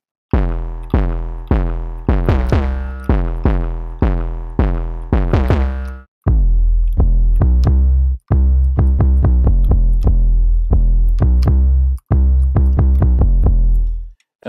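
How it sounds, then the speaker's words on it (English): Deep 808 bass presets from the Subs by Notonik VST plugin, a run of booming tuned hits that first come in quick short bursts, then give way to longer sustained notes, loud and alone. "Let's start with some of the 808s."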